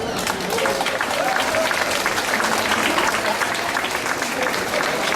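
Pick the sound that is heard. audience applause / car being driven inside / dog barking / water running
audience applause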